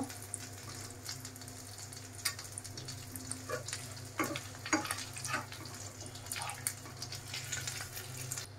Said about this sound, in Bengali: বাকিগুলো আমি ভেজে নেই